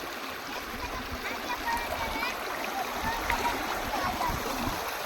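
Feet wading through a shallow village stream, with steady water rushing and splashing throughout, and a voice talking faintly over the flow.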